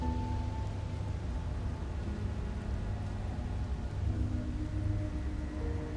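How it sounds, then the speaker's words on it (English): Steady, even rain hiss fills the scene in the video game Slay the Princess, with a low ambient drone beneath it, unbroken and without speech. "It wasn't raining last time."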